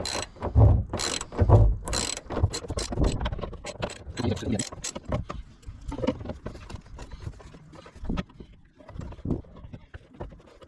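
Fasteners on a fuel tank of a Nissan 300ZX 2+2 are undone with a ratchet, giving rapid bursts of sharp metallic clicks, close and loud, with pauses and scattered knocks between them.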